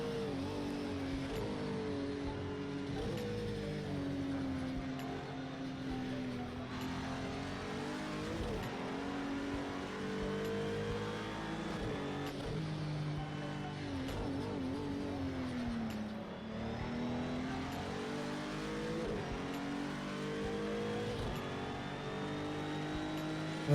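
A GT3 race car engine drones at Bathurst in the racing game Project Cars 2, with its pitch climbing and dropping through gear changes as the car laps steadily, loud and continuous with no pause.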